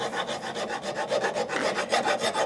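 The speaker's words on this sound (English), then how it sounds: "I'm going to grind it around with a file and make it so the nipple will hold those number 11 cap better" A metal file rasps back and forth over a muzzleloader pistol nipple clamped in a vise, a steady run of close, rhythmic scraping strokes with no talking.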